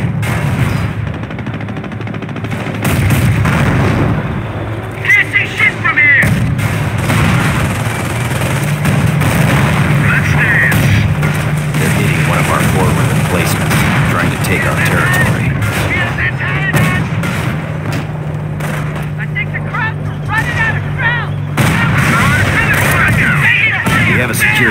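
Panther tanks in Company of Heroes shell a forward emplacement on a World War II battlefield. Repeated heavy gunfire and booming impacts roll on continuously, loud and close, while indistinct voices sound in the mix.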